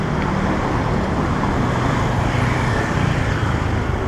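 Busy Bangkok street traffic, with a steady, close, unbroken roar of cars and motorbikes and no talking.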